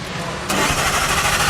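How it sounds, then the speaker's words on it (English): Cold start of a McLaren 675LT V8: a quiet moment, then the engine catches abruptly with a loud rumbling roar that settles into a rough, steady idle close by. "The sound of a cold LT start."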